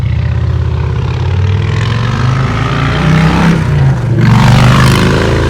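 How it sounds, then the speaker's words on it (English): A Harley-Davidson Sportster 48 motorcycle idles and revs close by, a loud, steady low rumble that swells slightly toward the end. "That's a Sportster. That's a classic 48, yeah. So that is how the Harley sounds."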